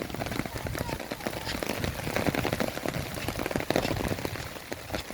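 Steady rain falling and pattering on surfaces outdoors on a darkening late afternoon, a dense continuous wash of drops that stays fairly loud throughout with no speech.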